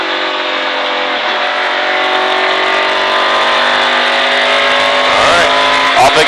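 A car accelerates hard around the Mickyard race track, its engine a loud, steady, rising roar that holds close by throughout with no break.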